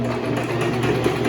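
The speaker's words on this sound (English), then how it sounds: "I'm just going to sew it all the way down with our straight edge." A sewing machine stitches a straight seam down a pillowcase, humming with a steady, close mechanical whir and a faint rapid needle rhythm, heard alone for a brief stretch.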